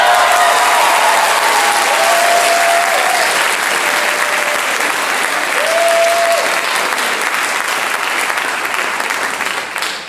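Sustained applause with whoops and cheers from a school audience greeting a steel band senior at a spring concert, a dense steady roar of clapping with a few whistles rising over it for the full length.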